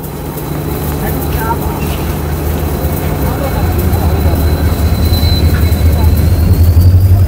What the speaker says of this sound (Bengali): ব্রিজের নিচ দিকে দেখুন ট্রেন যাচ্ছে